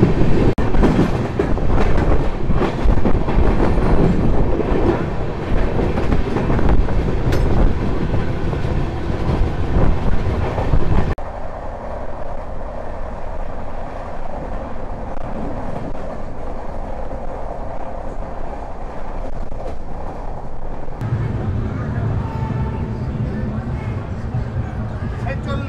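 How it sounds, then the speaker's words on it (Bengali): Howrah-Patna Jan Shatabdi Express running on the rails after leaving Durgapur, a steady loud rumble with rhythmic wheel clatter throughout, shifting to a softer, duller tone midway and swelling again near the end. "দেখুন ট্রেন আবার ছেড়ে দিয়েছে"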